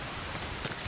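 Steady rain falls in the video game Xenoblade Chronicles X, a soft, even wash of drops with no voices over it.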